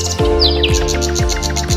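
Birds chirp and tweet in riverside trees of a swamp forest, a quick run of bright, repeated calls close by over a steady low hum.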